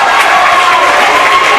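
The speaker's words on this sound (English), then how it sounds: "The crowd is getting into a little bit more." A volleyball crowd at a Tabor College versus Ottawa University match makes a steady, broad roar of cheering that holds level for the whole moment, loud and continuous.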